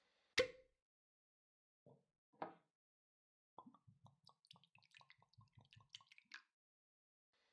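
Brandy poured into a glass in a radio drama, a quiet gurgling trickle with soft clinks and knocks, preceded by a few isolated taps of glassware, faint and close with no talking.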